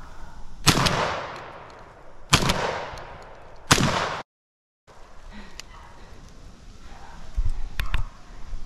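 Gunshots during a rabbit hunt with beagles outdoors: three loud, sharp shotgun blasts about 1.5 seconds apart, each with a short decaying echo, followed by a brief gap and quieter rustling and faint clicks.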